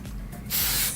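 Hairspray hissing from an aerosol can onto hair being teased and shaped into a prom style, a steady close spray lasting about half a second after a brief quieter start, with no talking.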